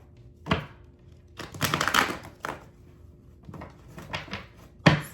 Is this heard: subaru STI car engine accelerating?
no